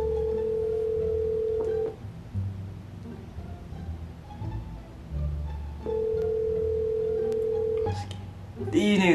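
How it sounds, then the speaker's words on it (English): Telephone keypad tones beep out a number as a call is placed, two long steady tones sounding a few seconds apart, with muffled background noise and some talk around them. "we dialing *67 in front of it so they don't recognize the number"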